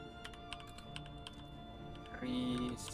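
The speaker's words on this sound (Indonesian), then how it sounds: "Jadi kita akan ketik group path" Rapid keystrokes on a computer keyboard as a command is typed into a Linux terminal, steady clicking over a low room hum, with a brief brighter tone near the end.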